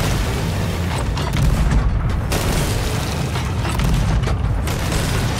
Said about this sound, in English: Go, guys, get on the cannons!